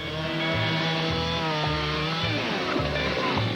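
Loud, close sawing through a log with a harsh, continuous buzzing roar that swells and dips in a steady repeating pattern, at a lumberjack skills competition.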